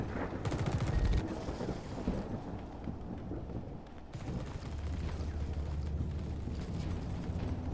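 Suppressive gunfire rattles steadily through a squad firefight in The Red Solstice video game, a dense, continuous wash of shots with heavier bursts early on, moderately loud and sustained throughout.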